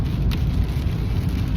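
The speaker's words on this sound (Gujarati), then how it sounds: "અને સખત વરસાદ ચાલુ છે." Heavy, steady downpour heard from a vehicle on the way to Heathrow Airport, a dense continuous roar of rain with a low rumble underneath and no talk.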